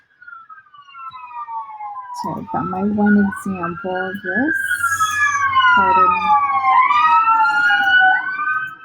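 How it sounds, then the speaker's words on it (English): A police siren wails past outside, its rising and falling tone sweeping continuously and growing louder, while someone talks indoors at the same time. "Pardon the siren."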